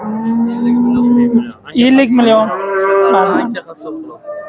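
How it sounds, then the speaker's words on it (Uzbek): Oxen moo at a livestock market in Shahrisabz, Uzbekistan: a close, loud bellow followed by a second swelling moo, with someone talking briefly in between. "Mana shu ikkita ho'kiz"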